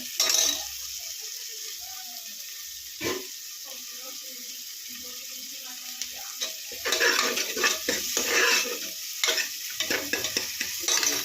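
A sambar tempering, seasoning fried in hot oil for flavour, sputters and crackles in a pan, with bursts of sizzling and scraping stirs up close.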